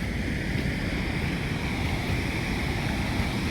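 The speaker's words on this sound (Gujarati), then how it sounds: "બાવરામાંથી ટપી જાય તો પાણીનો અવાજ વધારે આવતો હોય છે" Steady broadband rush of the flooded Machchhu river pouring over a causeway near Morbi after heavy rain, loud and continuous with a deep rumbling roar and no pauses, heard alone.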